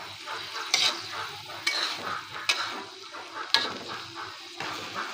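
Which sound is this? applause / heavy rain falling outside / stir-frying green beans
stir-frying green beans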